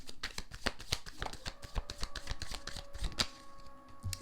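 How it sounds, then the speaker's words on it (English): Tarot cards shuffled by hand, a quick run of crisp, riffling flutters and soft slaps heard up close and alone for several seconds. "All right, we'll just shuffle."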